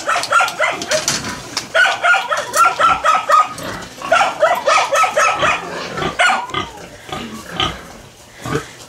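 A dog on a pig farm barks in a rapid run of loud, close yelps and barks, repeated almost continuously, with pig grunts and squeals mixed in among them.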